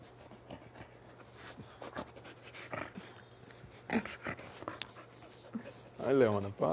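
A dog pants and whimpers close by, with soft whines and snuffles, then a rising high whine near the end, while people talk in a room over a low steady hum.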